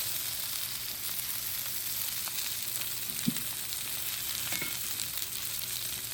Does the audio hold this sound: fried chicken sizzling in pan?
yes